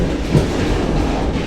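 A first-class passenger train in Vietnam runs along the rails, heard from inside a carriage as a loud, steady rumble with rhythmic clickety-clack from the wheels throughout.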